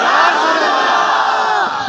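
A large crowd at a religious gathering shouts a devotional slogan in unison in response, a loud, dense roar of many voices sustained for nearly two seconds.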